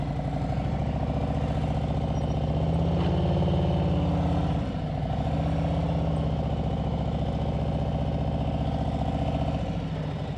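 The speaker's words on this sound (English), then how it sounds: "You hear my RPMs are still up and I'm in the friction zone" A motorcycle engine runs with revs held up while the clutch slips in the friction zone, a loud, close, steady buzzing drone with a slight dip midway before settling again.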